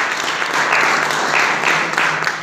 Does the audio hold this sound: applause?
yes